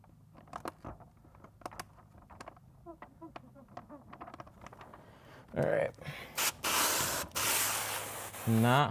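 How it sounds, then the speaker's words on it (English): Spray bottle misting water onto the windshield of a Cadillac XTS during a carbon tint job: someone talks first, then several loud, close hissing spray bursts follow one after another. "Let me grab my sprayer."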